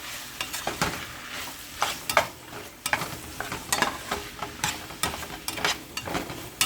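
A spoon stirring crushed garlic into a pot of cooking tomato and mushrooms, with irregular scraping and clicking strokes over a steady low sizzle, close and moderately loud with no talking.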